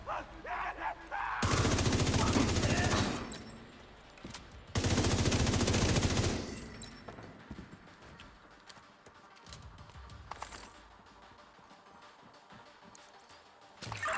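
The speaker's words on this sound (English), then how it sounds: "Was that gunfire?" Two loud bursts of rapid automatic gunfire, each lasting about two seconds, followed by quieter scattered game sounds and a single shot later.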